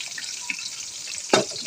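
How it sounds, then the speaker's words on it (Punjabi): Onions and garlic frying in a pan give a steady, soft sizzle throughout, with a brief louder clatter near the end as the pan is stirred. "ਪਿਆਜ਼ ਬਣਾਉਣ ਹੋ ਚੱਲੇ ਆ ਤੇ ਲਸਣ ਵੀ ਮਾਸ਼ਾਅੱਲਾ ਖਿਲਿਆ ਚੱਲਾ ਵਾ"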